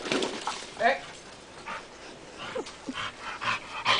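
A pitbull whimpers and yips in short bursts during a confrontation with a billy goat, the whines rising and falling at close range while a voice urges it on nearby.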